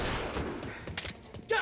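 Gunshots in Mafia Definitive Edition: a quick scatter of sharp, loud shots in short bursts, close up, with voices talking over and between them.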